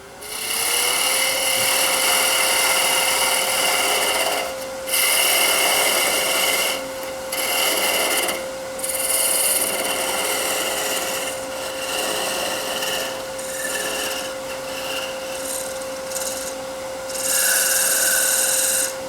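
Sandpaper rubs against a wooden ornament spinning on a lathe, giving a steady rasping hiss over the motor's constant whine, with several short pauses as the paper lifts away, close and with no voices.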